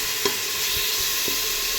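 Green chili masala paste being stirred as it fries in oil in a pan, a steady soft sizzle with a few scraping stirs of the spoon, close and alone without speech.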